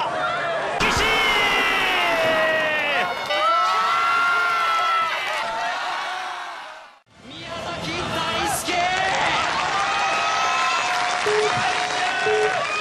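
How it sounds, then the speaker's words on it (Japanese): Crowd cheering and shouting at a Sasuke obstacle course event at Midoriyama, a dense continuous roar of voices with yells rising and falling, briefly dropping out midway before surging back. "祈りに燃えた声援が緑山中を支配している。"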